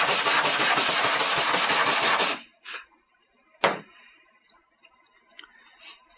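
Cleaning a welding electrode on an aluminum dent repair station: a loud continuous scraping rub for about two seconds, then a few short faint scrapes and one sharp tap, all close with no talking.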